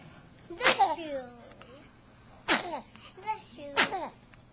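Three sharp, explosive sneezes spaced a couple of seconds apart, each a loud burst of breathy noise that trails off quickly, with a quieter vocal sound between the second and third.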